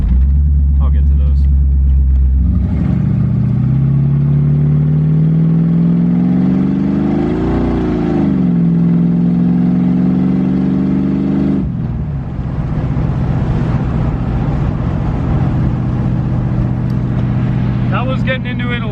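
A 1985 C4 Corvette engine running on open headers, loud and close: a steady deep rumble that rises through a rev, settles back, then drops to a rough idle and keeps burbling throughout.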